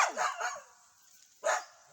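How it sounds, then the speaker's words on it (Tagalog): A pet dog barks twice in quick succession, short yappy barks heard fairly close with a brief pause between them. "Alagang aso."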